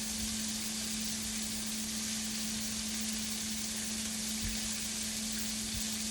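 Butterfly shrimp frying in a pan give off a steady, dense sizzle with a faint hum beneath it. The sizzle runs evenly and continuously, with no talking.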